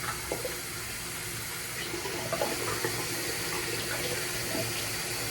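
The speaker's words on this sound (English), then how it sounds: "Wash my face and get ready" Water runs steadily from a tap at a bathroom sink during face washing before bed, a constant close rush with faint splashes and no talking.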